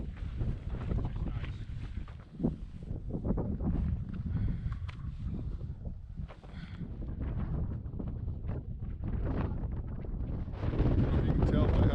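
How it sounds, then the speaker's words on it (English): Strong gusting wind roars and buffets the microphone in the Grand Canyon, loud and continuous with surging peaks, and stronger gusts near the end. "it is windy out here. Real windy."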